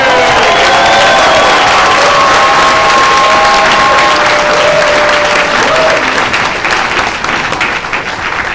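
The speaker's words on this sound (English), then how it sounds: "Give them a big round of applause." Audience at a WFG meeting applauding loudly and steadily for several seconds, a dense wash of clapping from a large crowd, with some voices calling out over it before it begins to thin toward the end.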